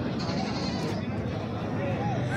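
Goat bleats rise in short wavering calls at a busy livestock market, heard amid constant crowd chatter and talk nearby.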